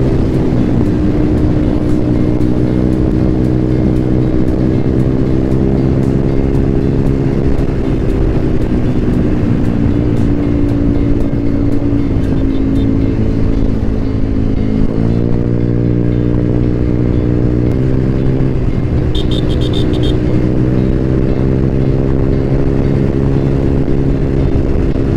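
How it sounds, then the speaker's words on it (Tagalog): A motorcycle with a loud aftermarket muffler drones steadily throughout a ride, its exhaust note rising and falling with throttle changes, close and constant with no talking. "binging-bingi na ako dito sa muffler ko. Ingay!"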